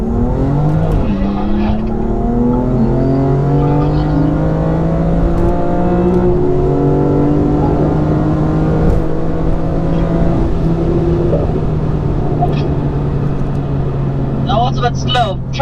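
BMW M2 Competition and M3 Competition accelerating hard in a race, with a loud engine droning and rising steadily through the gears, one sharp shift audible midway, while people talk over it from inside the car.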